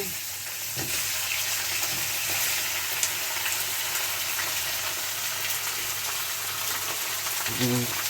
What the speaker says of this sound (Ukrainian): Зараз буде шкварчання сковороди, як завжди.